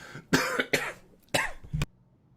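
Four short, harsh coughs from an adult with a cough that is not COVID, clustered in two pairs over about two seconds, close and fairly loud, with quiet between bursts and no talking.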